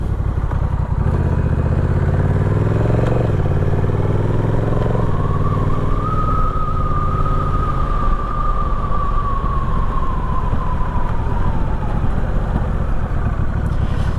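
A Honda Rebel 1100 motorcycle on a highway commute, its engine droning steadily and loud with heavy wind rumble, rising in pitch as it accelerates through gears and then holding a sustained cruising whine.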